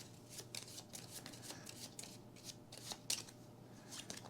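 A deck of cards is shuffled during a solo tabletop game, a quiet run of rapid riffling flutters and soft snaps with no talking.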